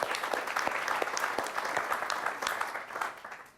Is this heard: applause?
yes